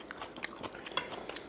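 Crunchy cooked wild rice being chewed close up, a quick series of sharp, crisp bites and crunches over about a second and a half, with no talk.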